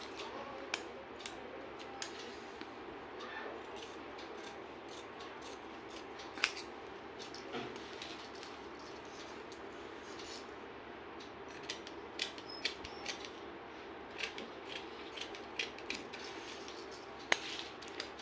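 Scissors cutting fabric for a katori blouse: faint, soft snips and small clinks spaced irregularly over a steady low background hum, with no talk.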